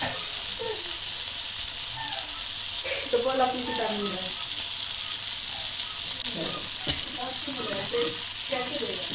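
Chopped onions fry and turn lightly brown in a pan, giving a loud, unbroken sizzle that fills the whole clip. Faint tonal sounds drift underneath.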